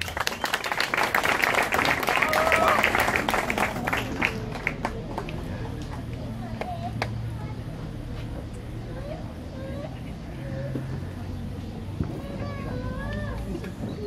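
Crowd applause at a graduation ceremony in a hall, loud clapping that thins out after a few seconds into scattered claps, with murmuring voices and background chatter continuing underneath.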